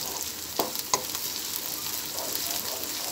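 Steady frying sizzle of garlic paste in a pan, with a couple of brief clinks of a utensil early on; no talking.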